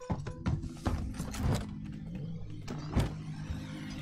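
A vacuum-cleaner-like robot moves in the Alien: Isolation video game, giving a mechanical whirring with gear-like clicks and creaks, several short bursts over a steady low hum, fairly close.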